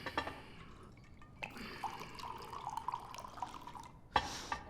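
Another round of drink poured into a glass, a faint nearby trickle with small drips and splashes, no talking.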